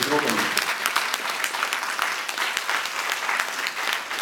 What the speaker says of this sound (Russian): под ваши аплодисменты мы сейчас и вручим ей премию